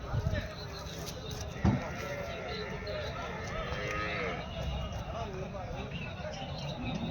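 Water buffalo low at a busy buffalo market, a few deep, drawn-out calls rising over steady crowd noise and nearby people talking.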